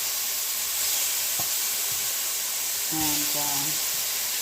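Apples are added to a hot pan and sizzle with a steady frying hiss, while a few brief utensil clinks and a short word of speech sit over the sizzle.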